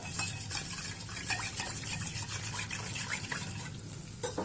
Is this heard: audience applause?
no